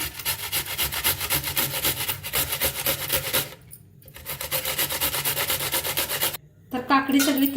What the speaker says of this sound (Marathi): काकडी अपन किसून घे तर बारके ह्यानं किसने किसून घते